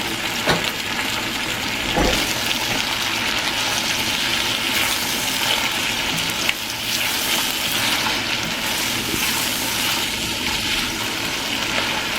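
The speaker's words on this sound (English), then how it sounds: "Now I am sauteing some of the vegetables." Onions, mushrooms and vegetables for an Irish stew sauté in a hot pan, giving a continuous loud sizzle and crackle with occasional spikes as pieces are moved around.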